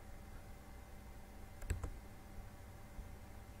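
A computer mouse clicks twice in quick succession, close and crisp, against a quiet room hum with no talking.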